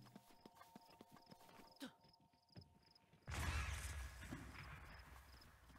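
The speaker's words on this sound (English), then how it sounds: "Hello, horses." Horses' hooves clip-clop in slow, separate steps amid insect chirps in the video game Breath of the Wild, then a sudden loud burst of noise takes over.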